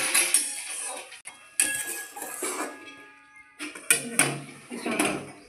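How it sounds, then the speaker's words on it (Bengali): Silver carp fish curry is tipped from a cooking pot into a serving dish, with repeated close metallic clinks and clanks of utensil against pot and dish and short pauses between them. "মাছটা ঢেলে দেবো।"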